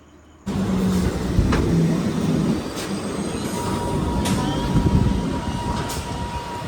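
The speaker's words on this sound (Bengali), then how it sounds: "নির্ধারিত সময় থেকে মাত্র দু মিনিট লেটে এসে পৌঁছলো আমাদের পরবর্তী ট্রেন" A Sealdah–Krishnanagar City local train pulls into Dum Dum station, a sudden loud rumble of wheels on rails with faint squeals and clanks building and holding close by.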